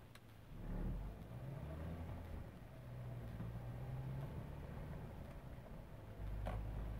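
A car driving along a street, heard from inside as a steady low engine and road rumble with mild swells of acceleration, fairly quiet and without talk.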